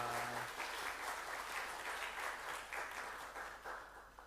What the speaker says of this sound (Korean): 우리 할렐루야 찬양대 위해서 박수 한번 크게 해주시기 바랍니다